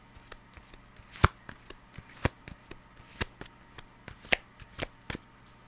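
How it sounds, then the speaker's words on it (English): Tarot cards are shuffled by hand in a quiet room, a string of sharp riffling snaps and slaps at irregular pace, some louder than others, with no voices. "Those are not shuffling great"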